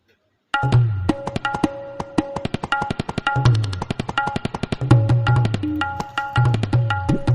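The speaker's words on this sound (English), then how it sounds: "This is the sound of tabla and it is an musical instrument." Tabla drumming alone, a fast run of sharp resonant strokes with deep booming bass hits recurring in a steady rhythmic cycle.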